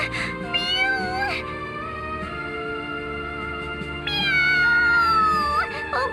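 Cartoonish cat meows from a cat character in the video game Bravely Second: End Layer, two drawn-out mewing calls over a steady game music background, loud and close.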